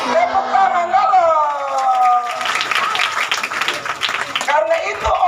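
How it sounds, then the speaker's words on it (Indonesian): A church congregation claps hands together during a sermon led by a pastor, a burst of group applause lasting a few seconds, framed by the preacher's amplified voice before and after. "Tepuk tangan dulu."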